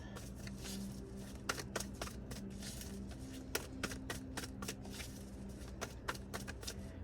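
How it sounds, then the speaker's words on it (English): Tarot cards are shuffled repeatedly, quick riffling bursts and soft slaps in an uneven rhythm, fairly close and quiet. "I'm just really feeling the need to shuffle."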